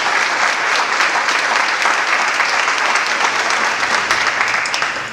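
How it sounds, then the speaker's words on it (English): An audience claps at a Ronald McDonald House groundbreaking ceremony, giving loud, dense, sustained applause from a crowd that fades slightly at the very end. "can we give them a round of applause?"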